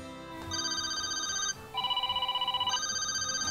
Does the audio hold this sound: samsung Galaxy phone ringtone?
yes